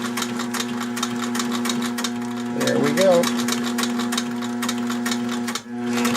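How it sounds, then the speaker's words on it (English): Singer 78-1 industrial sewing machine driven by a servo motor, stitching at slow speed with a rapid steady needle clatter over a humming motor, close and loud, while someone briefly speaks. "I have a servo motor on her, so I can sew slow, and that's what you're hearing is the motor humming."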